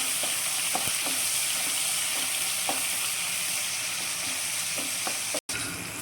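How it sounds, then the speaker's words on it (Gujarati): Tomatoes with turmeric fry and cook in a pan with a steady, dense sizzle that holds throughout, broken by a few faint stirring clicks and one brief dropout. "ટમેટાને આપણે થોડીક વાર ચડવા દેવાના છે"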